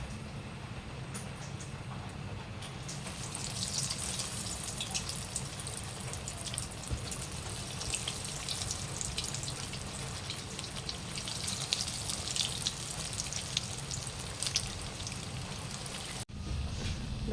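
Beef shahi kababs fry in hot white oil in a wok, giving a steady, dense sizzle that crackles and spits evenly for the whole stretch with no talking.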